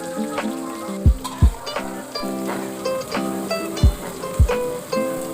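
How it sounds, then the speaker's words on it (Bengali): Chopped onions frying in a pan for a goat meat curry, with a steady sizzle running beneath music, which carries strong harmonic tones and several thumping beats. "এরপরে কুচানো পেঁয়াজগুলো দিয়ে ভাজা হবে"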